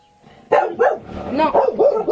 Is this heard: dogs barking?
yes